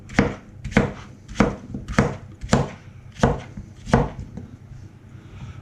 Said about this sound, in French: je coupe mon concombre dans la longueur